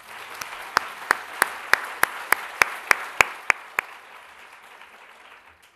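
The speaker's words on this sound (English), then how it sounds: "So please, applause for our organizers." At a women-and-leadership conference, a room of attendees gives a brief round of applause for the organizers while one close, sharp clap repeats in a steady rhythm over the softer crowd clapping, which fades out after about four seconds.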